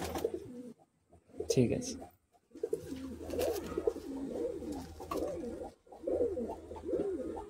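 A pair of Madras pigeons, male and female, coo in soft repeated low bursts close by, with people talking over them and a brief lull in the middle.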